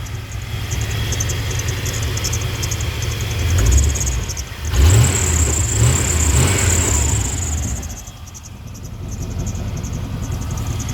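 An old truck with a 350 engine runs close by, idling steadily, then revs up twice in quick succession before settling back to a lower idle.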